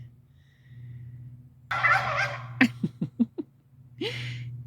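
A close wild turkey gobble breaks out in a loud burst in the evening, followed by a quick run of clucking notes and another gobble, over a low steady hum.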